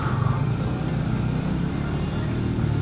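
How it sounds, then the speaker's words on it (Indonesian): A steady rumble of cars and motorbikes idling and creeping along in a traffic jam, heard from a motorcycle ride, close and continuous. "Wih, macet banget loh."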